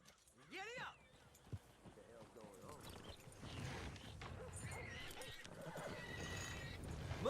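A horse in Red Dead Redemption 2 gives a loud whinny near the start, then hoofbeats and gallop sounds carry on steadily with a game voice and ambient noise mixed in.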